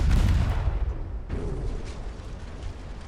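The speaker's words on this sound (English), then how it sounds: "That's a lot of ammo detonations." Ammunition detonations on warships in the naval game Ultimate Admiral Dreadnoughts, heard as a deep booming explosion that rolls off into a long rumbling decay over a low steady din.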